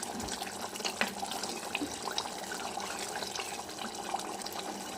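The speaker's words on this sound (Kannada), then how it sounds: "ಚೆನ್ನಾಗಿ ಕುದಿ ಬರ್ತಾ ಉಂಟು" Spiced fish curry liquid with salt and added water boils in a pot on the stove, making a steady close bubbling and simmering hiss with small pops and no talk.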